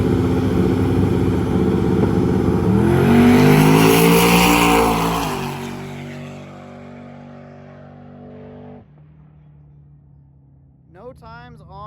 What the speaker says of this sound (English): let's see the Nova make a pass